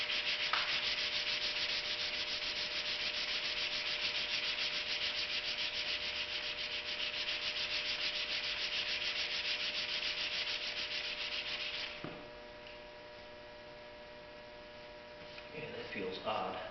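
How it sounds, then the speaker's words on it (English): A Jeep Commander fender flare is hand-sanded with 220 grit sandpaper, making a close, continuous scratchy rubbing over a faint mains hum for about twelve seconds. After a short pause, a few lighter scrapes follow. "220 grit is a little fine for actually leveling something"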